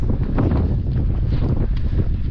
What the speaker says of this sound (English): The wind's up again.